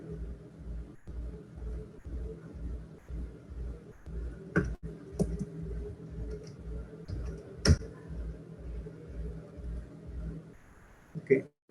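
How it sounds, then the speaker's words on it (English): Computer keyboard typing during a Python programming lesson: a steady run of quiet, evenly spaced key clicks over a low room hum, with a few sharper taps. "I'm typing the same statements here"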